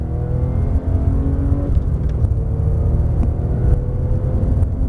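A Porsche 997 GT3 RS race car accelerating on track, heard onboard: a loud, continuous engine roar with rising tonal harmonics, shifting pitch around the middle before climbing again.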